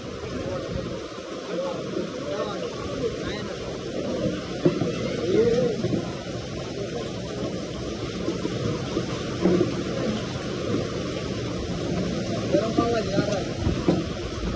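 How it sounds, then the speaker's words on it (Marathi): Rain falls steadily outdoors with a broad hiss, low rumbles like distant thunder and a few louder gusts, while people talk over it. "खमंग खमंग असा पाऊस"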